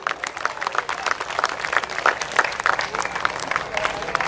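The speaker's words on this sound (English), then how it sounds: "Big round of applause to the organizers." A crowd at a youth cricket league opening ceremony applauds the organizers, dense continuous clapping from many hands at moderate distance, with some talk mixed in.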